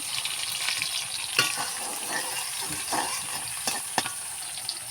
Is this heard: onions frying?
yes